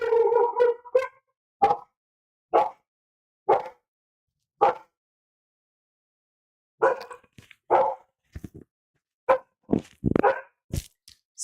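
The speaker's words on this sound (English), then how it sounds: "So my dog is barking." A dog barks repeatedly in separate bursts, loud and close, with a long pause in the middle before a faster run of barks.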